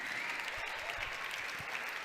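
An audience applauds a performer at a song contest final, continuous even clapping from a large crowd, moderately distant and sustained throughout.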